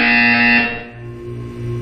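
Loud electronic buzzer in the game Portal 2, a steady harsh droning tone lasting under a second, followed by quieter low humming.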